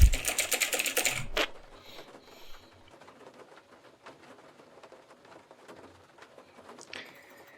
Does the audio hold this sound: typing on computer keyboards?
yes